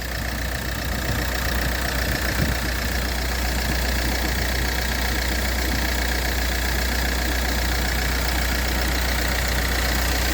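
A 1.3 Multijet (A13DTE) diesel car engine idles steadily with a low, even rumble and faint rattling knock, constant throughout and close by, with no voices.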